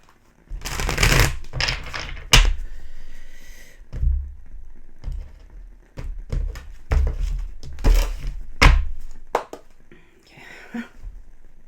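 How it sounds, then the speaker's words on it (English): Tarot cards riffle and slap in several quick bursts, with soft taps and handling noises between them, close up and fairly loud. "All right, one more shuffle here."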